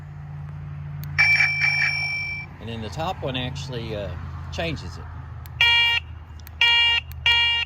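An Aventon Aventure e-bike's electronic horn beeps in short tonal bursts, first a sustained tone, then several repeated chirping patterns, with someone speaking briefly between them.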